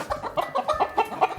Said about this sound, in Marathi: These are hens.